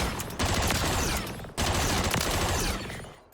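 Continuous automatic fire from a suppressed MTZ 556 rifle in the video game Modern Warfare 3, two dense sustained bursts with a short break between them, loud and close, trailing off at the end.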